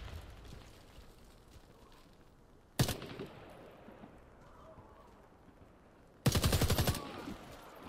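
Imbel IA2 assault rifle fire in the video game Warface comes in two short, loud automatic bursts over quieter in-game background noise.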